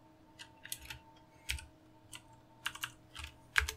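Computer keyboard keys are tapped in quick, uneven bursts of clicks with short pauses between them, close and fairly quiet, with no one speaking.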